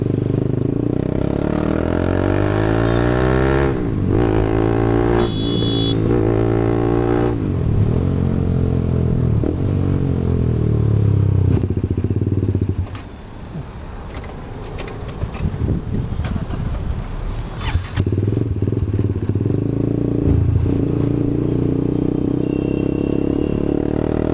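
A TVS Apache RR 310 motorcycle fitted with a full Akrapovic exhaust rides hard, engine droning loud and near with rising and falling revs through gear changes, plus wind rush and a brief easing off midway.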